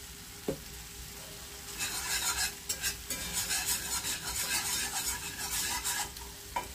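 Spiced green cabbage is stirred in a frying pan, giving a steady scraping, sizzling churn that runs for several seconds after a couple of sharp utensil knocks at the start, close and fairly loud.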